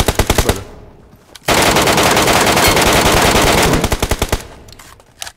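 Automatic weapon fire in the mobile battle royale game PUBG Mobile: loud, close bursts of rapid shots, with a long sustained stream of fire in the middle between shorter rattling volleys.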